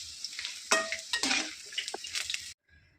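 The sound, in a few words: frying sun-dried vadam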